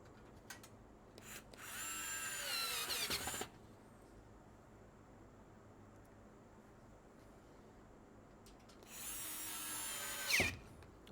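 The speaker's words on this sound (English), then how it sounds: "I was able to get this frame installed very quickly because of this little screwdriver" A KATERK 4V cordless screwdriver drives screws to install a frame, two separate whirring bursts of a couple of seconds each with a quiet pause between, close and alone.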